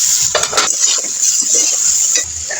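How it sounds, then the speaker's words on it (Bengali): Vegetable stalks sautéing in a pan with a steady background sizzle and bursts of stirring and clinks of a utensil against the pan, close and fairly loud throughout. "তো এটা ডাটাগুলো এবার একটু কষতে থাকুক"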